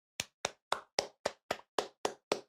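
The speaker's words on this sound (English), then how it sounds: "a warm round of applause for me coming back" Nine evenly spaced sharp claps, about one every quarter second, close and loud against silence, opening a gaming podcast.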